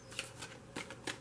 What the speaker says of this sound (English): I'm only going to shuffle them for a moment, stopping now.